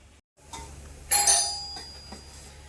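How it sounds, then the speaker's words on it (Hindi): A bright electronic doorbell chime rings out once, clear and fairly loud, its tone lingering and fading over a quiet room. "तो डोरबेल बजी है,"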